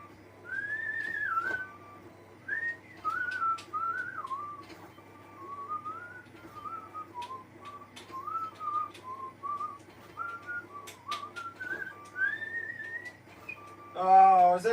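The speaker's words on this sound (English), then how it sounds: "has anybody else whistled with their 3D printer when it gets a bit repetitive? I'm doing that now." A person whistles a wandering, repetitive tune along with a running 3D printer, the clear close whistle steady over a faint low mechanical hum, ending with a brief louder burst.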